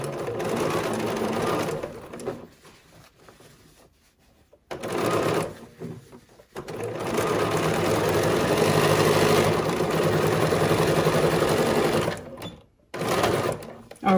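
A sewing machine runs in long steady bursts while stitching an embroidered face mask, with brief pauses between runs, close and fairly loud.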